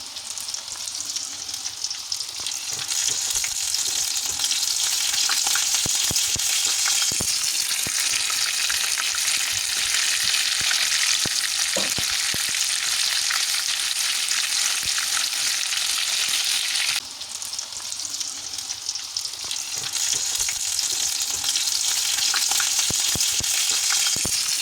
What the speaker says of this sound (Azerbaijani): Hər iki üzünü qızılı rəng alana qədər yaxşıca qızardırıq.